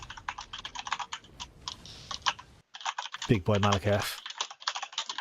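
Rapid, steady clicking from a computer keyboard close to the microphone runs through most of the stretch. It pauses briefly while a voice speaks a short phrase, then the typing picks up again.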